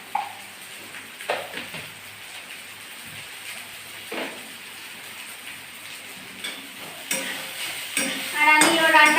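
Onions fry in a pan with a soft, continuous sizzle and occasional stirring scrapes. The sound grows louder and busier toward the end, where brief high-pitched chirps appear.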